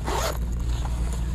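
A rose gold zipper on a bag is pulled in a short, steady rasping zip, close and fairly loud against a low background hum.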